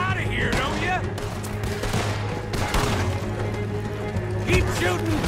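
A video game shootout with gunfire bursts and impacts mixed with music and someone shouting throughout, the shots dense and loud but partly buried under the voice.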